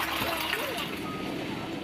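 Water pours steadily from an improvised outdoor tap, a continuous rushing splash heard close by and fairly faint.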